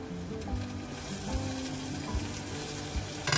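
Tomatoes dropped into onions already browning in a pan for an oyster (kalva) recipe, giving a steady close sizzle and frying crackle with a few soft stirring scrapes throughout.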